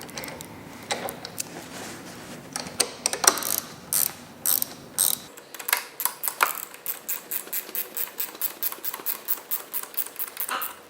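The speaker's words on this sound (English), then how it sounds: "you're going to take your 10mm wrench and tighten them all down" A 10mm ratcheting wrench tightens handlebar clamp bolts on a Rosso Motors eATV, close and crisp, with a few scattered clicks and handling at first, then a long run of quick, regular ratchet clicks.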